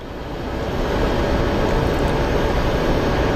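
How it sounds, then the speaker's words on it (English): An airliner takes off at Phoenix Sky Harbor airport, its engines building into a loud, broad, steady roar that holds without any voices. "Okay, we have some action for takeoffs."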